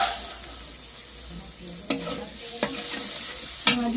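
Water is added to a masala frying in a pan for a fish kalia. It gives a close, steady sizzle with a few sharp clacks of a spatula stirring against the pan, and no voices.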